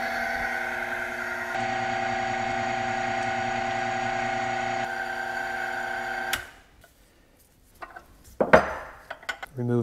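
Wheel spinning freely on a bicycle chain lubricant test machine, a steady loud mechanical hum and whir that runs several seconds, then cuts off, followed by clinks and handling clatter.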